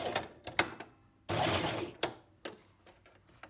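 A sewing machine back stitching an invisible zipper runs in short rattling bursts, then one longer steady whir, then more brief stitching bursts, close and clear with no talk.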